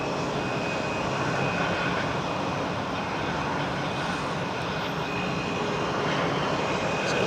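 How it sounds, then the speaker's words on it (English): An airliner departing Munich airport for Heathrow, its engines producing a steady, loud, broadband roar that holds constant throughout with no talk over it. "So this aircraft off to Heathrow."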